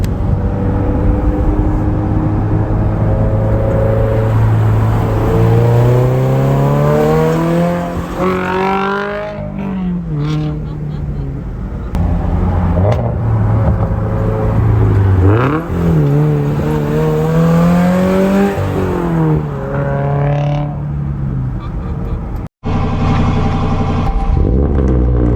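A car drives along the road, its engine rising and falling through gear changes and tire noise, loud and close with a brief dropout near the end.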